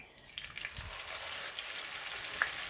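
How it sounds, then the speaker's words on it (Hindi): Chapli kebabs fry in hot oil with a steady, bright sizzle and crackle, close and continuous with small pops throughout and no talk. "अब मैं कबाब फ्राई करना स्टार्ट कर रही हूँ। इसके लिए जिस तरह से हम शामी कबाब फ्राई करते हैं उतना ही मैंने इसमें ऑयल लिया है"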